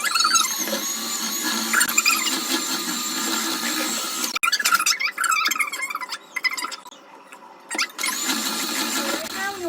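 An electric mixer beating chocolate cake batter whirs with a high, steady motor whine that cuts out briefly and resumes, heard up close, with a person speaking over it at times.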